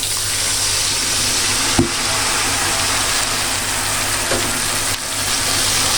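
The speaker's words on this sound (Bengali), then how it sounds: "আগে আমি পানিটা দিয়ে মশলাটা কষিয়ে নিই" Kashmiri red chili powder and coriander powder cooking down with onions and a splash of water in a pan, giving a close, loud, steady bubbling sizzle with a couple of sharp clicks from the utensils.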